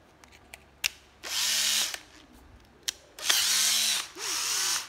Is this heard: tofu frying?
no